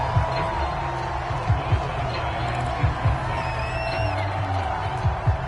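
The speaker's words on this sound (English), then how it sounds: "The crowd getting into it as we come up on a big 3rd down." Stadium crowd noise swelling steadily in an American football video game on PS4 ahead of a big third down, a broad continuous roar with scattered thumps and faint whistles, heard without commentary.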